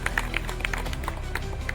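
Audience clapping to welcome a senior sugarcane development inspector at a farmers' enrolment and awareness gathering on sugar mill premises: scattered claps over a steady, noisy background, fairly even throughout.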